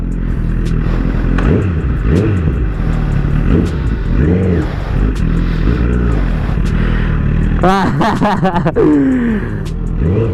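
A Honda CBR 1000cc sport motorcycle revs loudly up close in repeated rising and falling throttle blips, with a sharper burst of engine clatter near the end.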